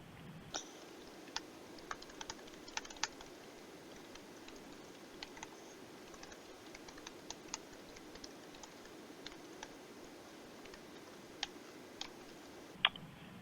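Light keystrokes on a computer keyboard while an event description is entered, scattered faint clicks spread over a steady low hum, fairly quiet and without speech.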